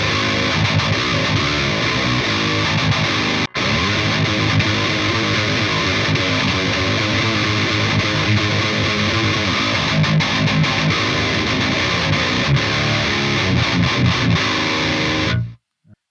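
A heavily fuzzed electric guitar plays a thick, saturated riff continuously, with a brief cut near the start before the tone rings out and stops abruptly at the end.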